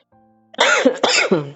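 A single person coughs two or three times in quick succession, close and loud, after a brief faint hum.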